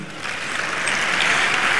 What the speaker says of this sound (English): clap for my husband now